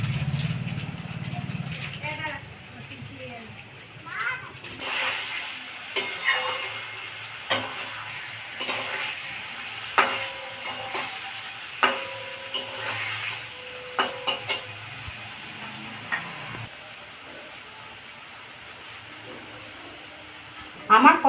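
Spices for dhokar dalna with salt and Kashmiri chilli are sautéed in a pan: a soft sizzle under steady rhythmic scraping and knocking of a spatula, while someone talks over it.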